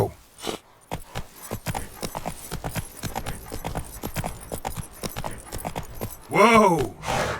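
Roach, the horse in The Witcher 3, gallops in a quick, steady clip-clop of hooves. A voice shouts over the hoofbeats and the horse snorts near the end.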